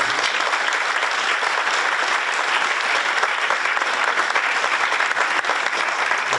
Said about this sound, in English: Nice round of applause for them.